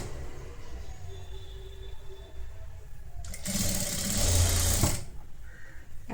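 A sewing machine stitches a netted blouse, its motor whirring steadily with a louder, faster burst of running stitches midway before settling back to a lower hum.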